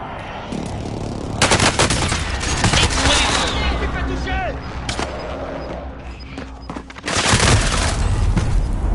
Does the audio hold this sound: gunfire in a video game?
yes